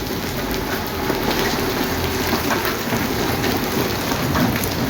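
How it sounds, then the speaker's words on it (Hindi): Large hailstones pelt down during a heavy thunderstorm, a loud, dense, unbroken roar of impacts that holds steady throughout with no voices. "इतना मोटे मोटे ओले हैं। आओ, ये देखें व्यूअर्स, ये ओले पड़े हुए हैं।"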